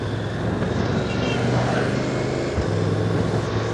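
A 2025 Honda NC750X motorcycle rides through Lagos, its engine producing a steady, continuous low drone with wind noise layered over it at close range.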